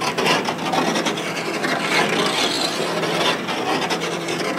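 A hand deburring tool works around the freshly cut metal edge of an access opening in a PA-28 wing, making a steady, close scraping rasp with repeated strokes and no talk.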